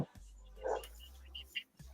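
A dog gives a single short bark close by, against a low steady hum with a few faint clicks around it.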